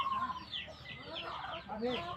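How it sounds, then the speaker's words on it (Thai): Chickens cluck softly in short, scattered calls at a modest distance, with faint background noise around them. "ไก่พ่อใหญ่"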